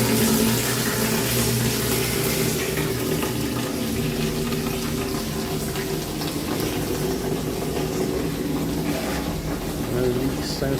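Water pours steadily into a tank at a Thailand retirement home, fed by a newly installed pump and due to be shut off by a rising ball valve; the rushing, splashing flow runs close and continuous throughout.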